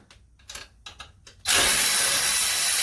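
Shock bolts coming off a CJ-7 axle: a few scattered clicks and handling noises, then a loud, sustained whir of a power tool spinning the bolt continuously to the end.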